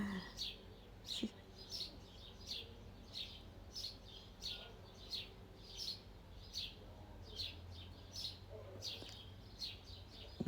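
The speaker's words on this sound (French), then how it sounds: "Là, c'est le merle." Outdoors in a quiet setting, a blackbird sings in faint, repeated short phrases at a regular pace, with soft ambient background between calls.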